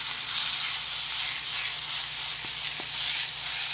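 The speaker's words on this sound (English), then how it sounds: "My stove is on a slight slant this way, so all my oil goes down in the pan" Zucchini frying in oil in a slanted pan on a stove gives a steady, loud sizzle and hiss, with a couple of faint clicks near the end.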